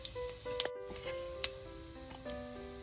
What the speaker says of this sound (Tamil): முதல் கடுகு கொஞ்சம் போடுறேன், பெருஞ்சீரகம், கொஞ்சமாக சின்ன சீரகம்